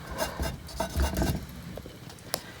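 Gunk is rubbed and scrubbed off an old Emerson AR-171 radio being cleaned for restoration, producing close, uneven scratchy rasping strokes in short bursts and ending in a small sharp tick.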